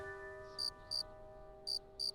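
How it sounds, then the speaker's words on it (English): Four short bursts of cricket chirping in two pairs, sharp and high, over a steady hum in an otherwise quiet setting, in a VeggieTales cartoon. "Are there crickets in the desert?"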